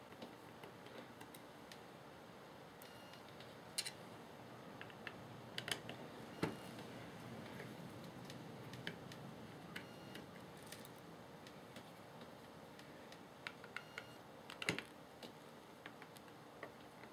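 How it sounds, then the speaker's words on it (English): A Phillips head screwdriver works screws out of an airsoft gearbox, producing faint, sparse metallic ticks and clicks scattered irregularly over quiet room tone. "So all you need is a Phillips head screwdriver to open this gearbox up."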